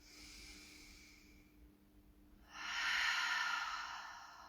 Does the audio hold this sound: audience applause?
no